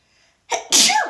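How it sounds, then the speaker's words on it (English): One sharp human sneeze, a quick intake followed by a loud explosive burst that trails off, close to the microphone. "Sorry, I sneezed."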